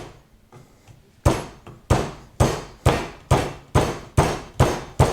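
Eight heavy, evenly spaced whacks as a stalk of lemongrass is hammered flat to tenderize it, each a loud close thud with a short decaying ring, after a quieter stretch of light rustling.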